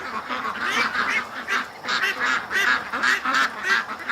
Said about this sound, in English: Oh, there's a Muscovy.